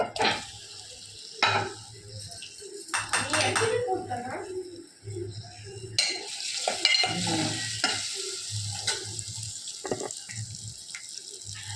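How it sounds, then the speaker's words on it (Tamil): Egg dropped into oil and masala in a pan, sizzling and frying steadily with scraping stirs and clattering utensil knocks throughout, with talk partly over it. "பெரட்டி வச்சுருக்கிற எண்ணெயில் முட்டையை போட்டலாம்"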